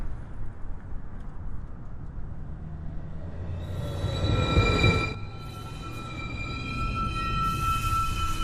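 A downtown NYC subway 1 train pulls into 215th Street station, a low rumble building to a loud peak midway with steady high-pitched whining tones, then settling into a sustained hum.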